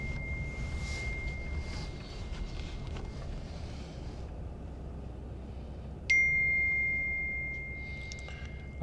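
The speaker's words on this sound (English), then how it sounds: "I should have just silenced my phone" A phone chimes with a notification or ring tone during a drive past empty campgrounds in Cimarron Canyon. A brief tone comes early, then a louder sustained one holds for a few seconds, fairly near, over a low rumbling background.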